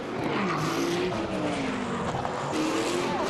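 GT1 race cars stream into the pits at Navarra, Spain, their engines a loud continuous roar with shifting pitch as they pass close by.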